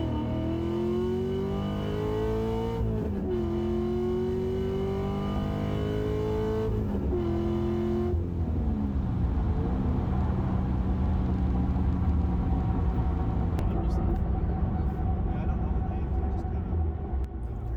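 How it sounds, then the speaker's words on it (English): A cammed Chevrolet C6 Z06 Corvette engine pulls hard at wide open throttle, its loud droning note climbing in pitch across repeated pulls with brief breaks between them, then settling into a deep rumbling, raspy roar. "we made several hits at different RPMs, but all under full wide open throttle"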